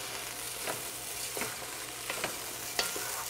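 Seasoned fajita-style Mexican food sizzles steadily on a grill, a constant hiss with occasional soft crackles and scraping stir sounds, close and moderately quiet with no talking.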